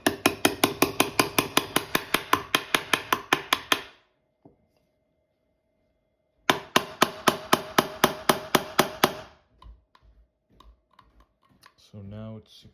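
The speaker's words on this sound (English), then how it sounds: "And now I'm going to take my punch and just hammer down on the side." A punch is hammered to drive a retaining pin into a Benelli M4 shotgun: two runs of rapid, sharp, evenly spaced metallic strikes split by a pause, then a few scattered taps and a brief voice at the end.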